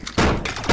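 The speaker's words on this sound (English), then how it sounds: "Where did you get a shotgun, man?" Shotgun blasts in a video game: two loud, close, sharp booms in quick succession, a brief gap between them, and no talking.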